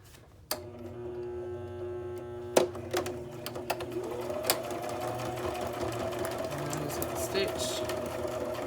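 A sewing machine stitches through paper book signatures, its steady motor hum running throughout with a few sharp clicks and knocks as the pages are positioned, heard close and without talking.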